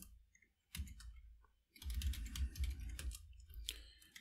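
Typing on a computer keyboard during a MySQL database lesson, a short burst of keystrokes, a pause, then a longer run of clustered clicks close up, with no talk over them.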